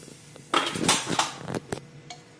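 Lid lifted off a pressure cooker of boiled kungniyaan, a traditional Dogra dish, in a home kitchen: a few metallic clanks and scrapes of metal on metal, fairly close, with a sharp clink near the end and no talking.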